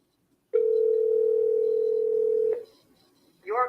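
A steady telephone call tone sounds loudly for about two seconds during a cold calling session, then cuts off, followed by a brief faint electronic chirp near the end.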